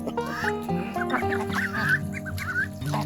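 A flock of Cayuga ducks quacks and honks continuously at close range, overlapping calls rising and falling without pause.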